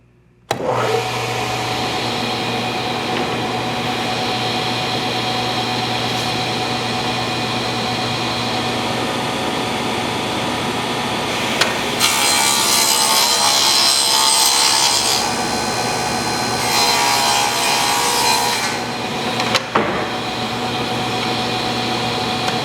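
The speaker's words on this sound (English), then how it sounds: "I'm going to turn on the saw." A SawStop table saw starts with a pull-out paddle and settles into a steady loud whine, with two louder bursts of cutting through wood in the second half and no talking.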